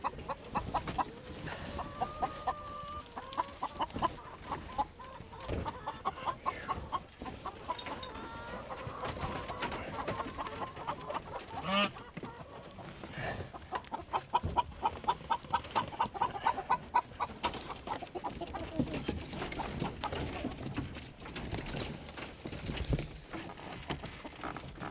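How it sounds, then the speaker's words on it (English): Chickens cluck and coo almost continuously as they ride in wagons being dragged to a new pasture with geese, with steady rattling and rolling noise underneath. "we have all of the chickens and both of the geese loaded up in their wagons"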